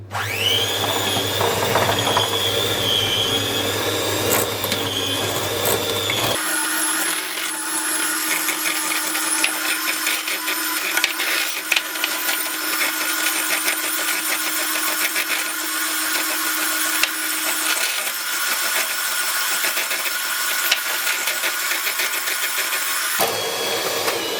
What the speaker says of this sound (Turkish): şekerimiz ve şeker yağ ile iyice bir olana kadar çırpıyoruz.